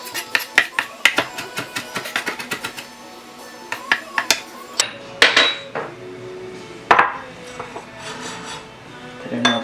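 A knife chops basil finely on a cutting board for bruschetta, giving quick rhythmic taps that bunch into bursts and then thin into scattered knocks, with a voice talking over part of it.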